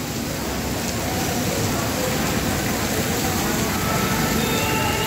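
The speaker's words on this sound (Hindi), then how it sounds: "ये बारिश आप देख सकते हैं कितनी अच्छी बारिश हो रही है" Heavy rain pours steadily beneath the Sipri Bazaar overbridge in Jhansi, a dense, loud, continuous hiss of drops on hard surfaces that fills the whole stretch.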